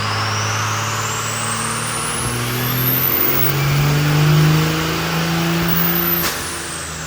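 Diesel truck with a Scheid stage 2 VP44 injection pump revving hard on a dyno with no tune, a loud rising and falling pull lasting several seconds, close and without voices.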